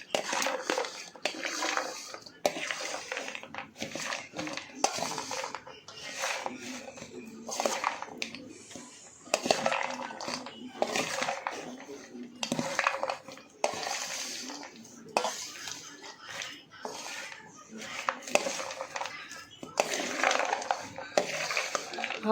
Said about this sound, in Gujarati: જે ખજૂર શેકેલું છે તેમાં તેને આપણે મિક્સ કરી લેવાનું છે આ રીતે